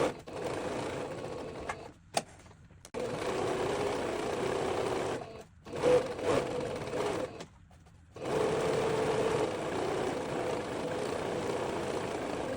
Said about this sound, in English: We sew this with our machine on a very loose setting.